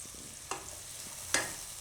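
Onion is stirred into a spice paste frying in a pan for Gujarati makkai methi shaak; two soft scrapes of stirring sit over a faint, quiet sizzle.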